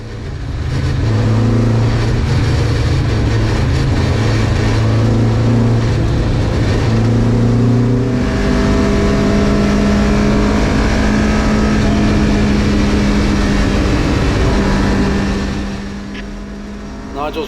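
Racing engines of a Marcos and a Porsche 911 roar loudly and steadily on the Donington circuit, with pitch shifting through gear changes and a brief dip around the eighth second, under occasional commentary.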